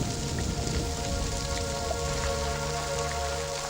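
Heavy rain pouring steadily onto surfaces, a dense, even hiss of countless drops with no pauses, loud and close throughout.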